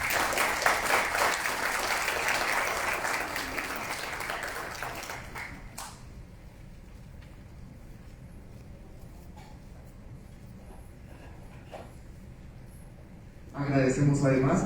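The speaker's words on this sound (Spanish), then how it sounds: "Los recibimos con un cálido aplauso." Warm applause welcomes the moderators at a housing forum, a loud sustained crowd clapping for about five seconds that then fades into quiet room tone, with a fresh burst of clapping starting near the end.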